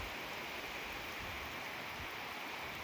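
Heavy monsoon rain falling on a maize field, a dense, steady hiss of downpour that holds at an even level throughout with no voices.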